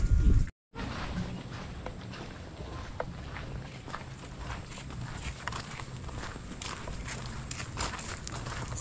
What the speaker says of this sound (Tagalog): So yan po at kami ay naglalakad na rito at papunta sa ilog.